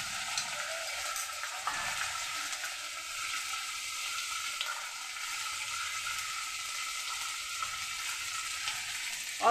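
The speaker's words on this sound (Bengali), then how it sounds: "দিয়ে মশলাটাকে কষিয়ে নেব।" Ginger and green chilli paste with ground coriander, cumin and turmeric frying in a pan, a steady soft sizzle with occasional faint stirring scrapes, fairly quiet and continuous.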